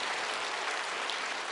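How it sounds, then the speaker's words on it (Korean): A church congregation applauds in a dense, steady wash of clapping that holds at an even level throughout, with no pauses. "우리 박수 한번 크게 하겠습니다."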